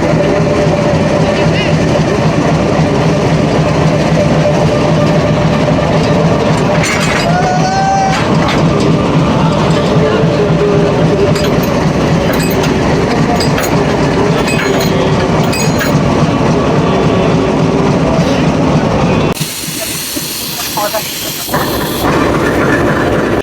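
A locomotive is coupled to a passenger train at a Bangladeshi station. A loud idling engine drones with hissing air and metallic clanks, under voices and platform chatter, then the sound changes abruptly to a broad, noisy wash near the end.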